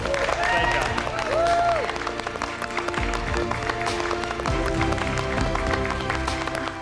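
Applause in a MasterChef Australia kitchen to thank a pastry chef after a cooking challenge, steady clapping from a small group under background music and some talk.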